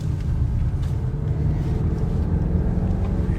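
A deep V8 car engine roars steadily close by while accelerating on an autocross course, a low rumbling drone that holds strong throughout with no speech.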